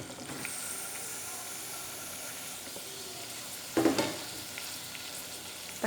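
Tomatoes fry with softened onions in a pan for a Tamil Nadu-style chickpea curry, a steady soft sizzle with a brief louder stir or clatter near the end.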